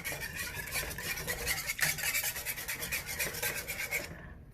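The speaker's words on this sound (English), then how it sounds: "And I'm stirring here" Rhythmic scraping and rubbing of a utensil stirring Chicken Alfredo sauce in a non-stick pot, repeated close strokes at a steady pace that stop near the end, with no talking.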